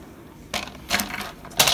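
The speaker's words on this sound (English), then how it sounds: "I'm gonna get my paper trimmer." Paper trimmer slicing paper for a junk journal envelope, three short crisp scraping swipes close by, each under half a second, in a quiet room.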